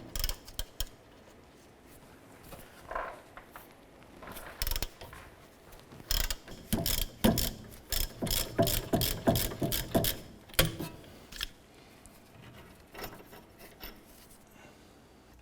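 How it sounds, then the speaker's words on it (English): A ratchet with a 17mm socket loosens the lower rear strut bolt on a 2008-2012 Honda Accord, giving quick clicking ratchet bursts and metallic creaks in a rhythmic run, close and moderately loud. "We're going to use our 17mm socket and ratchet to go ahead and loosen and remove our lower strut bolt here."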